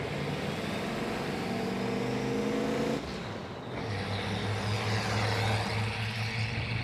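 A turbocharged race car running 14 pounds of boost circles Laguna Seca on a warm-up lap, its engine droning and shifting pitch at a steady distance, easing briefly before pulling again, with no talking.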